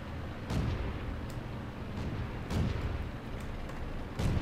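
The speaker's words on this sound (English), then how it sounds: "That's an H-35 that I hear firing" An H-35 light tank firing in World of Tanks, with several dull booming shots spaced a couple of seconds apart, muffled and distant.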